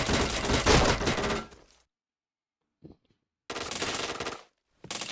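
Bursts of automatic gunfire in the shooter game Point Blank, a loud rapid volley, a short gap with a faint click, then another sustained burst and a final brief one.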